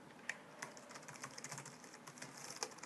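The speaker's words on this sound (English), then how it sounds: "Let's see how this keyboard feels" Soft, quiet typing on a PowerBook G4 15-inch laptop keyboard, with irregular light key clicks tapping away steadily.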